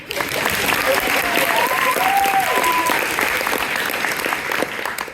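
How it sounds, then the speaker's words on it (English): Steady applause from a theatre audience at a stage performance, a dense wash of clapping that holds loud for several seconds, with a few faint voices or tones mixed in beneath it. "The applause sign mysteriously turns on again."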